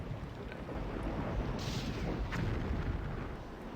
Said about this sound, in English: Oh, orbital bombardment.